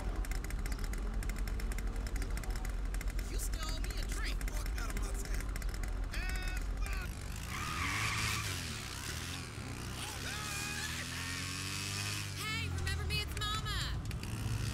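A motorbike engine idles and revs in a video game, a steady loud mechanical drone with shifting pitch and some changing tones partway through.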